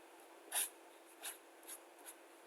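Faint, light pencil strokes on paper, a few brief marks drawing stars, spaced out over quiet background hiss.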